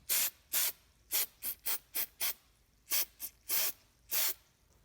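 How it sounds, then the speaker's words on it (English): Aerosol bursts of Fluid Film lubricant sprayed onto the hinge of a new rear hatch door handle for a 2007–2008 Honda Fit/Jazz: about a dozen short, sharp hissing puffs in an uneven rhythm, close and fairly loud, with no talking. "I'll spray some fluid film on the hinge of the new handle,"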